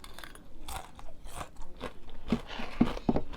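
Close, crisp crunching and biting into an oil-free baked crispy chili snack, with irregular sharp crackles over about three seconds.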